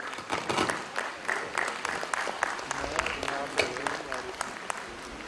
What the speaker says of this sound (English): A huge round of applause please.